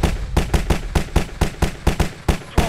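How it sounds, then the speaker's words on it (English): A rapid string of about a dozen gunshots from a played police recording, sharp evenly spaced cracks fired in quick succession, loud and close, with no voices. "shots fired"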